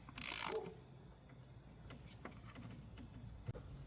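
A ratchet snugs bolts on a Chevy Silverado fuel injector plate, a brief burst of clicking up close followed by faint intermittent mechanical ticks and handling noises in a quiet garage.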